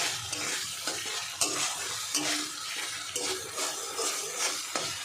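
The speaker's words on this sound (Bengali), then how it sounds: "জলটা শুকিয়ে তেল ছেড়ে দিয়েছে চিংড়ি মাছে। একটু নাড়িয়ে নেব।" Prawns frying in oil are stirred in a pan, giving a steady close sizzle with repeated scraping and clinking strokes of the spoon, and no voices.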